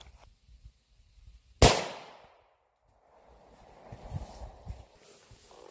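A single sharp, loud pistol shot from a .45 ACP firing a Buffalo Bore +P 255-grain hardcast round cracks and trails off in a short outdoor echo, followed by faint shuffling and footsteps.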